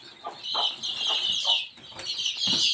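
Two hens covered over by an elderly woman at a hamlet home make soft, repeated clucking and murmuring calls over a thin high background hiss, close and moderately quiet.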